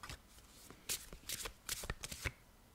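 Tarot cards are shuffled by hand in a series of quick, crisp riffling bursts and soft slaps, close and distinct, with brief pauses between the handfuls and no talking.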